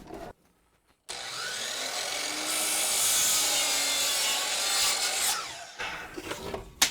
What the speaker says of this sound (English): I want to come up about 3/4 from my bottom and cut the bevel there.